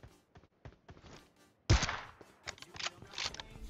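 Sniper gunshot from an AWM rifle in the mobile battle-royale game PUBG Mobile: one sharp, loud blast cutting through quieter footsteps and clicks, then a decaying tail with smaller follow-up sounds.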